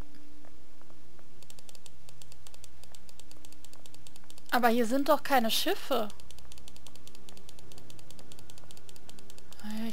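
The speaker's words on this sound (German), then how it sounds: "Ich klicke mich mal so lang." Rapid mouse clicking while playing Sherlock Holmes: The Awakened Remastered, a steady stream of sharp close clicks running through most of the stretch, with a person speaking briefly in the middle.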